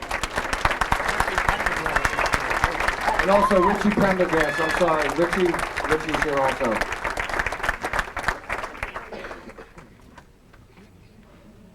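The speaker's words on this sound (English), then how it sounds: "Let's give him a nice round of applause." Applause for inductees at a Pennsylvania Sports Hall of Fame ceremony rolls on loudly while someone speaks over it, then thins and fades to quiet near the end.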